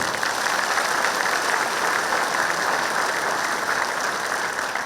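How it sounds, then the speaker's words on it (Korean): Loud, continuous applause from a large crowd at the launch ceremony of Gangwon Special Self-Governing Province, with many hands clapping in a thick, unbroken roar that holds steady from start to finish. "여러분 큰 박수 보내주시기 바랍니다."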